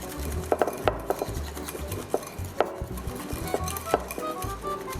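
A spoon stirs sugar and water for a sesame salad dressing, scraping and clinking against a bowl in a steady irregular rhythm of small taps, close and fairly quiet with no talking.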